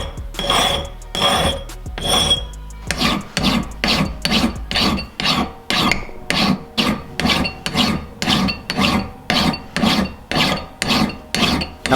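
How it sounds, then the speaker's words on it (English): A hand file rounds the edges of a metal bracket clamped in a vise. About twenty loud, close, rasping strokes follow one another in a steady back-and-forth rhythm. "with this file, I'm just going to put some nice rounded edges on the bracket"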